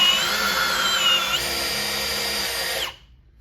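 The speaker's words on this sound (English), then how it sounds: "second hole with the Milwaukee with the Diablo auger" A Milwaukee drill bores a hole with a Diablo auger bit, a loud steady high whine for nearly three seconds with a slight pitch shift midway, then cutting off abruptly.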